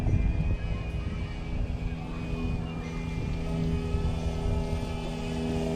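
A small DJI Mavic Mini drone hums steadily as it descends toward a landing pad outdoors, its propeller whine continuous and fairly close, with a low rumble of wind or background noise underneath.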